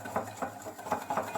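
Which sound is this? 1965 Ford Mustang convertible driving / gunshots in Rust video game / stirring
stirring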